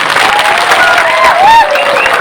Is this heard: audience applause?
yes